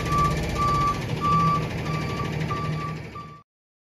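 A moving truck backs up along a street, its reversing alarm sounding a steady series of about six evenly spaced beeps over a low engine rumble before cutting off abruptly.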